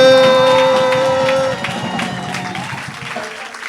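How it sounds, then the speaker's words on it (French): A church congregation applauds and acclaims God with loud, sustained clapping and cheering that gradually thins out, while voices call out over it. "On va acclamer encore notre Dieu."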